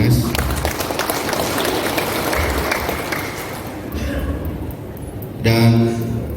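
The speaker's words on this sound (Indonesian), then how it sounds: "kita berikan tepuk tangan buat Dinas" Audience applause at a swearing-in ceremony for village heads in Pelalawan Regency: a dense, rain-like patter of clapping fills the first few seconds, then fades under a public-address speaking voice.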